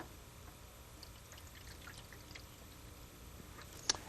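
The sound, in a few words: pouring stop bath solution into a darkroom tray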